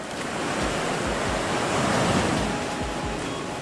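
Ocean waves on a beach surge and wash continuously in a loud, dense roar, with soft low swells rising and falling every second or so under steady wind noise.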